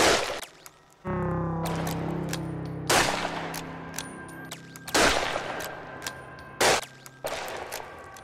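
Sniper rifle shots in the zombie video game Zombie Night Terror: four or five loud, sharp cracks spaced a second or two apart, each ringing out briefly over a steady low game tone, with no talking.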